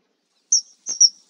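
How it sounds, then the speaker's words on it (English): A kingfisher gives two short, high-pitched calls in quiet surroundings, a brief chirp followed by a sharper double note a moment later. "Kingfisher."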